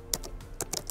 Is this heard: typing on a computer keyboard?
yes